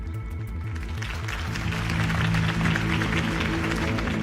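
Crowd applause at a political campaign rally in Batman: The Telltale Series swells from scattered clapping into a loud, sustained ovation, with a low musical tone running underneath.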